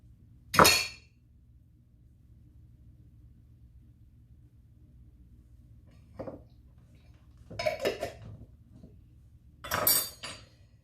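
A spoon clinks against a bowl while chili jam goes into a meatloaf mixture. One sharp clink comes first, then a few softer clatters and scrapes spaced out over quiet kitchen background.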